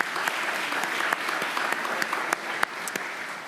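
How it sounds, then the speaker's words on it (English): A crowd at a university business school awards ceremony applauds a prize runner-up, a short burst of steady clapping with scattered louder individual claps. "I'll give a round of applause"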